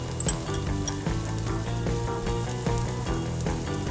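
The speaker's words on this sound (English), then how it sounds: "I want to put a little bit of garlic." Garlic hits hot oil in a wok for a Thai sweet and sour prawn dish, giving a close, crackling sizzle with scattered pops and clicks, and no one talking.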